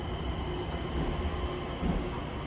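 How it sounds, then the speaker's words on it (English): A Long Island Rail Road train rolls past the eastbound platform at Hicksville station, a loud, continuous rumble of wheels on rails, steady and close, with no voices. "And there goes the train."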